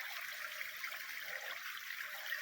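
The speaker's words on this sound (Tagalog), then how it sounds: "Yan po ang alos ng tubig" Water flowing in a steady, soft hiss and trickle past a bamboo tree, faint and continuous with no voices over it.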